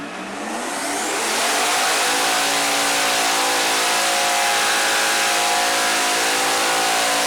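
Turbocharged LS-swapped Ford Foxbody Mustang revving hard on a chassis dyno, a loud continuous engine roar building over the first second then holding at high rpm with a rising whine, close and alone.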